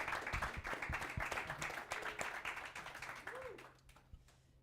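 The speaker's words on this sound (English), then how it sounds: "So how about a big round of applause for our guest speakers up here tonight?" An audience claps for guest speakers at an evening tech event, with a burst of applause that fades out after a few seconds.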